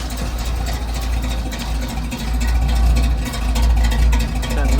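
A 1983 Chevy C10 pickup truck idles close by with a steady, deep low rumble that stays even throughout, with no talking.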